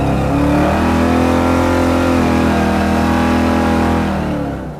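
A 1955 Chevy gasser with a 700-horsepower Mopar Hemi roars loudly and steadily up close as it pulls away, its rich engine note rising slightly, then fading at the end.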